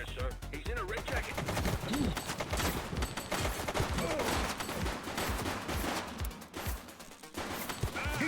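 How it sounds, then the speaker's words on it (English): Gunfire in The Precinct video game rings out as a dense, continuous stretch of shots and loud impacts under game music and voices, with a leader in a red jacket firing. "He's shooting!"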